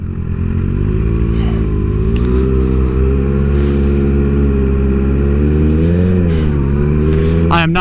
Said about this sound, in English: I am not putting up with all that traffic